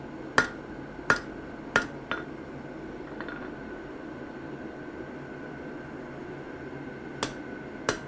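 Hammer blows on a steel chisel being straightened, ringing metallic strikes: three evenly spaced hits, a lighter tap, then a pause and two more strikes, close and sharp over a low steady hum.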